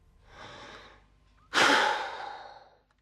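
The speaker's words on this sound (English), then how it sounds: "It measures how much air she can exhale in a second." Close breathing into a peak flow meter for an asthma check: a soft inhale, then one sharp, forceful exhale that tails off over about a second.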